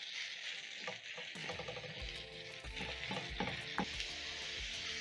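Three-quarters of a kilo of minced meat fries in a hot pan, hissing steadily while a spatula breaks it apart with repeated close scraping and tapping strokes.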